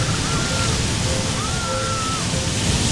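Big ocean waves break and churn in a continuous loud roar of surf and rushing water, steady throughout with no pauses.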